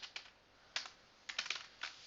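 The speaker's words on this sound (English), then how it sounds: "Side by side I'm typing all the stuffs which you have to prepare." Typing on a computer keyboard while writing Java notes, heard as quiet clusters of crisp keystrokes in short bursts separated by brief pauses, with no talking.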